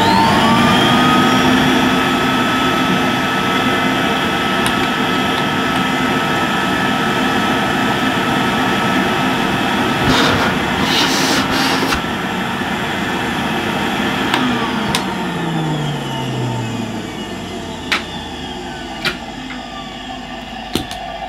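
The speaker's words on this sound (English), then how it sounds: "the motor doesn't sound bad, although we can hear that it's running very slow" A 1980s Hoover S3128 Sensotronic System 2 vacuum cleaner motor runs steadily and loud without pause, its whine sitting low and sluggish, with a falling tone near the end and a few sharp clicks in the closing seconds.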